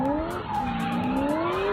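A supercharged HSV VE Maloo V8 ute power drifting: a loud, continuous tire squeal with wavering pitch over a roaring engine, close and sustained throughout, with no talking.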